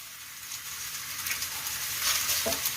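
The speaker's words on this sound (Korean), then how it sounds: "그리고 볶아주세요" Ingredients are stir-fried in a pan after two spoons of chili powder go in, giving a continuous moderate sizzle with scraping stirs that grow a little louder near the end; nobody speaks.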